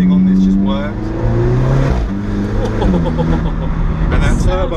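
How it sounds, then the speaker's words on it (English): Alfa Romeo 4C on the road, its turbocharged engine rising and falling through revs with a whistling turbo and exhaust note heard from inside the cabin, while people talk over it. "And that turbo whistle, you get a lot of turbo whistle from the exhaust as well as from right behind you."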